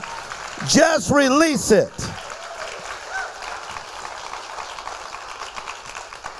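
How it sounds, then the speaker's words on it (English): An audience claps steadily through most of the stretch after a loud voice speaks briefly at the start, the clapping settling into an even, moderate wash. "Come on, keep on clapping."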